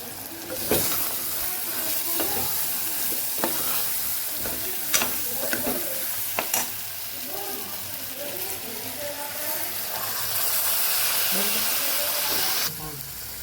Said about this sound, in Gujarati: સરસ મસાલા સાથે આપણે ખીચડીને સાતળી લેવાની છે